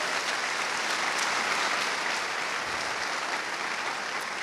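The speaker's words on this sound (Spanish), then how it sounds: "Le damos un aplauso al Rey de Reyes." A church congregation applauds, a dense and even wash of clapping from many hands that holds steady throughout.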